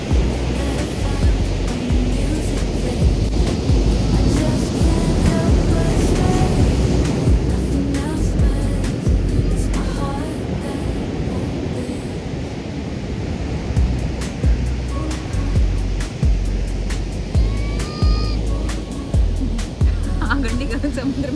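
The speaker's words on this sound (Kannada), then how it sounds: "ಈ ಅಲಿ ಸೌಂಡ್ ಕೇಮುಗೇನೆ ಚಂದ" Ocean waves breaking on a beach, a loud, continuous roar and wash with wind buffeting the microphone and some voices faintly mixed in.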